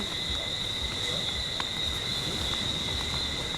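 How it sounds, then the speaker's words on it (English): Crickets at night in Barbados near a beach bar trill in a steady, continuous high chirr, faint and unbroken, with no voices over it. "Listen to the crickets."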